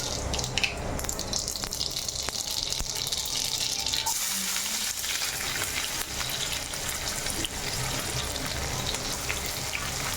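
Mustard seeds sizzling in hot oil in a pan, a constant dense hiss with occasional faint pops and crackles, steady and close throughout with no voices.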